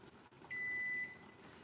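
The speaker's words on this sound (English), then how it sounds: "this is my oven making the noise, and I'm gonna turn the timer off right now" A turkey fryer's oven timer gives a single steady electronic beep of about half a second, clear over quiet room tone.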